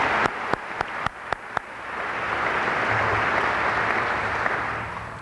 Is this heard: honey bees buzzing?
no